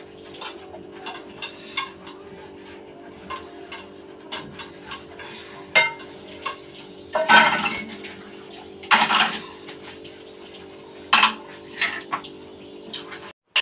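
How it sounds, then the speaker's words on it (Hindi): Metal puja utensils, pots and dishes clatter and clink in a home kitchen with sharp, irregular knocks and a few longer rattling bursts, set against a steady low hum. "बर्तन तो आपको पूजा के बर्तन निकलते ही जाते हैं"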